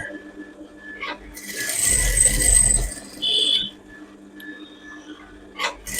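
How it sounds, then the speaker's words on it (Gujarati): A sewing machine stitches a fabric collar in a short, quiet mechanical whirr lasting about a second, surrounded by near-silence and faint clicks. "તમારે સીધી સિલાઈ એના ઉપર કરી લેવાની આખા રાઉન્ડમાં ફરતી"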